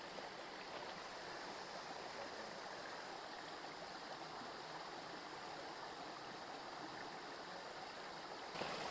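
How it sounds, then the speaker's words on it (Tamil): Water flowing steadily over a small waterfall on a day trip outside Chennai, a continuous broadband rush at constant level with no voices. "இங்கே ஒரு குட்டி ஃபால்ஸ் மாதிரி இருக்கு."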